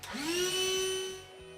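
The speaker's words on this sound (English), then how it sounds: "Having that needle on there kind of limits how fast it inflates, but still doing pretty good time." A Ryobi ONE+ 18-volt inflator with a needle attachment whines nearby as it inflates a bounce house, the motor spinning up to a steady high-pitched hum that tapers slightly toward the end.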